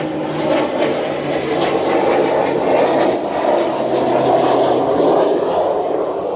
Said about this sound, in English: I've got planes going over now.